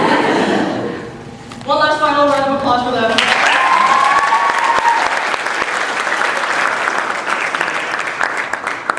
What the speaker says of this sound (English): One last final round of applause for them.